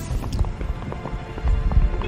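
Hooves of a young Sindhi horse clip-clop at a steady walking rhythm, close and fairly loud, with no voices over them.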